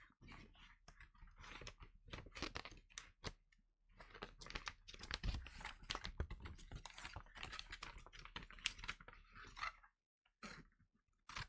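Gift wrapping paper being cut with scissors in a quiet, cozy holiday setting, a dense run of close crisp snips and paper crackles that stop briefly near the end.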